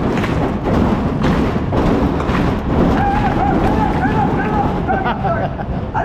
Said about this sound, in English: Give me a stomp clap with me.